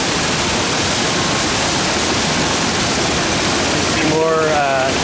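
Water rushes steadily through a cherry processing line for washing and filtering at a fruit packing plant, a loud continuous wash of noise, with a brief voice surfacing near the end.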